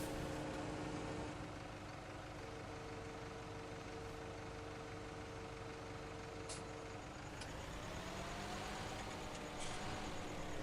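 Tractor engine running at a steady, even rumble with broadband mechanical noise throughout, and some faint tonal whines and clanks partway through. Heard from fairly close with no talk.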